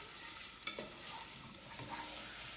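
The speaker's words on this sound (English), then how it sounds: "with the onions, you kind of just want to stir it until they become translucent" Chopped onions sautéing in oil as they are stirred, giving a steady low sizzle with a few soft scraping knocks from the spoon early on, fairly close with no talking.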